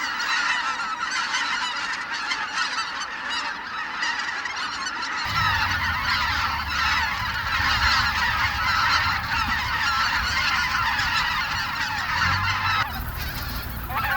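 Large flocks of migratory white-fronted geese and cranes gather around a reservoir in the winter fields of Cheorwon; dense, continuous honking from many birds layers together, steady and moderately loud, swelling fuller partway through.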